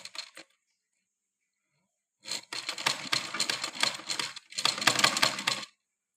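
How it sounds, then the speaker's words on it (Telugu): A sewing machine runs in two short bursts of rapid, even stitching as thread piping is sewn onto layered cloth, with a brief tap at the start and a pause between bursts. "ఇలా పెట్టి నీట్గా కుట్టు వేసుకోవాలి"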